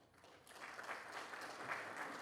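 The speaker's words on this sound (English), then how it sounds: "Give yourself a round of applause for a job well done." Faint, distant applause from a crowd at a school commencement for the Class of 2020 at a charter arts school, a steady soft patter of clapping held for about two seconds.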